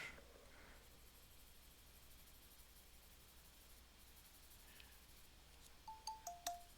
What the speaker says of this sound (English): Oops, there's another phone sound.